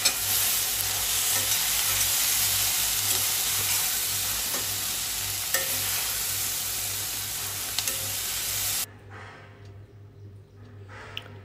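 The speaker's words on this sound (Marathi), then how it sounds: "आता आपल्याला छानपैकी असं फ्राय करून घ्यायचं आहे." Cashews fry in oil in a pan, giving a steady, loud, close sizzle that holds evenly for about nine seconds, then cuts away to a quieter background with faint stirring scrapes.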